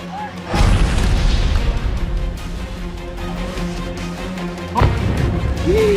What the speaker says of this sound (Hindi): ईरान के बुशहर में ताबड़तोड़ मिसाइलें दगी। धमाकों की आवाजें सुनाई दी गईं।